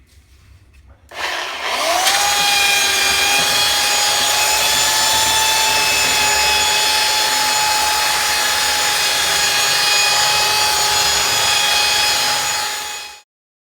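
A power sander works a wooden bar stool seat made from wood blocks, giving a loud, steady whirring drone that starts abruptly after a quiet second and runs continuously until it cuts off at the end.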